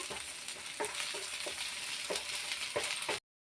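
Onions fry in a pan with a steady, bright sizzle, broken by a few spoon scrapes and stirs at irregular intervals, close and fairly loud, with no talking before it cuts off.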